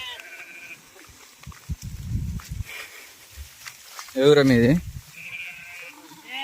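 A Mahabubnagar sheep lets out one loud, wavering bleat near the middle, amid scattered footsteps and rustling, with a person speaking briefly, in rainy season.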